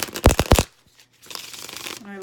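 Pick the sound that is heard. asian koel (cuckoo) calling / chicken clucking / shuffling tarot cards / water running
shuffling tarot cards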